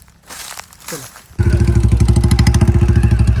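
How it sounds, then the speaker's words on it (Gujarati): A motorcycle starts up for the ride home. There are a few handling clatters and a brief voice, then a loud close engine settles into a steady chugging idle that lasts to the end. "ચલો પડ્યા આપણે બાઇક લઈને નીકળી જઈએ ઘરે"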